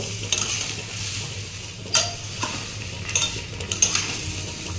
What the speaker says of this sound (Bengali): ভালো করে আমটা কিন্তু ভেজে নেব